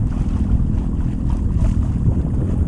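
Strong wind on a lake buffets the microphone with a constant low roar, mixed with a faint wash of water in the background; no voices.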